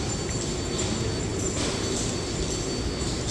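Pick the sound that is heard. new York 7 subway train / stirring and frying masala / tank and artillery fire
new York 7 subway train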